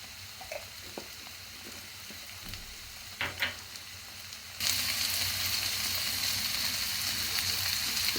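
Corned beef hash fries in a pan, a quiet crackle at first with a few scrapes and taps, then a sudden jump to loud, steady sizzling as the heat is turned up.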